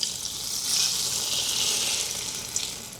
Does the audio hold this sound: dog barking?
no